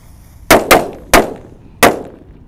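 Four disco firecrackers lit together go off in four sharp, loud bangs, two close together, then one, then a final bang after a short gap, each with a brief ringing tail and no talking.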